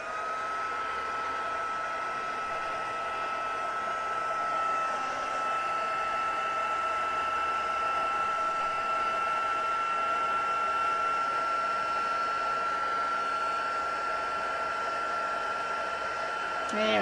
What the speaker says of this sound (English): I'm going to turn my heat tool on